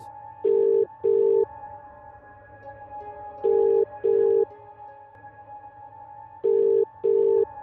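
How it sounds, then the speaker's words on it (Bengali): A telephone rings at the far end of the line in an audio drama: three paired double-ring bursts, evenly spaced and clear over a faint, steady background hum. "ওপাশে রিং হচ্ছে।"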